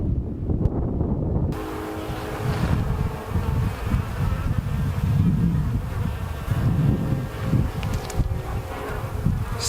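Honey bees swarm around an open hive during a frame inspection, a thick, constant buzz that swells close to the listener, with wind rumble and handling noise underneath after a brief quieter opening.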